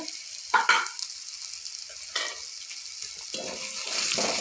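Onions with Kashmiri chili, salt, turmeric and coriander-cumin roasting in a pan for rajma, heard as faint, uneven sizzling with a few scraping stirs and clinks, no talk.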